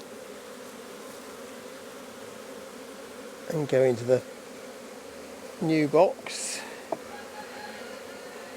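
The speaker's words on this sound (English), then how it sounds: "if I just give it a fairly shaky shake, then a lot of the older bees will fall off" Honey bees shaken from a frame into a new WBC hive box hum in a continuous, close buzz, while someone speaks briefly in two short bursts over it.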